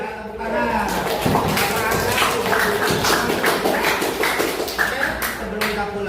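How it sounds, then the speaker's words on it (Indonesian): Students in a classroom clap together after a lesson. The applause is a dense, uneven patter of hands that runs for several seconds, with voices mixed in. "Ya, tepuk tangan."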